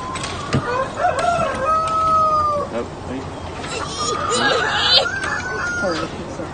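Rooster crowing on a small poultry farm in America, a couple of harsh drawn-out calls close by, with other fowl noise and a voice in the background.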